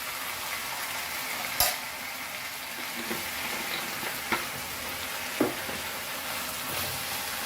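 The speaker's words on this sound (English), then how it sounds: "And fry it, high flame." Vegetable fried rice sizzling on high flame with vinegar and salt, a steady frying hiss broken by a few sharp scrape-and-stir clinks spaced a second or so apart, close and fairly quiet with no voices.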